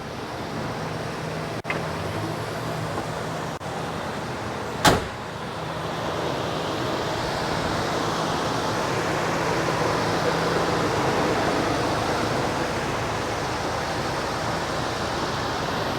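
A 1975 Chevrolet Caprice Classic convertible's V8 engine idles close by as a steady, even rumble with a brief knock near the start and no voices.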